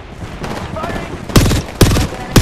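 Gunfire in the battle-royale shooter Apex Legends: three loud, sharp bursts close together, each with a short ringing tail, following a stretch of quieter game noise with faint voices.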